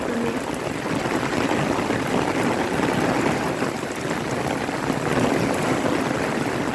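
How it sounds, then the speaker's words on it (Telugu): Heavy rain pours down outdoors in a steady, dense wash of noise that holds evenly throughout, with no voices. "ఫుల్ రెయిన్ పడుతుంది"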